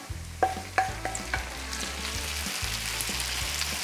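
Onions, tomatoes and dried mushrooms cook together in a pan with a constant sizzling hiss, and several distinct utensil clinks and scrapes come early on.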